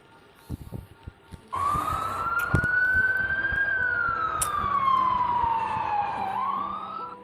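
After a few faint knocks, a loud wailing ambulance siren begins and sweeps slowly up and down, continuing steadily to the end.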